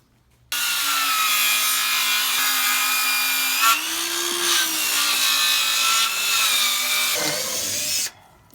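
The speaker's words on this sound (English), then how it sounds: "so we've swapped to this saw" Power saw cutting wood while building a home on wheels, a loud continuous buzzing whine with a humming motor tone that bends in pitch under load, starting abruptly and stopping after about eight seconds.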